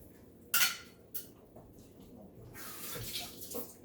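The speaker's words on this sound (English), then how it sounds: "Wash a little extra egg off my hand there." Running tap water rinses raw egg from a hand in a home kitchen while making Pennsylvania Dutch potato filling, with brief splashy bursts followed by a steadier close stream of water, no talking.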